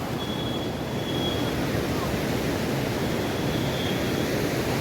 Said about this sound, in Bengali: ঝর্ণার মানে জলের স্রোতের যে আওয়াজটা রয়েছে না, আওয়াজটা খুবই সুন্দর।